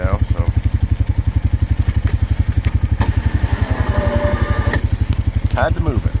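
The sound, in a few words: Honda Rubicon 520 ATV engine running while plowing snow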